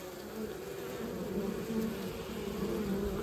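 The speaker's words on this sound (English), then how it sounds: "We have another ball of bees here." Honey bees buzzing at a hive entrance, a dense, steady hum of many wings holding at a constant close level throughout.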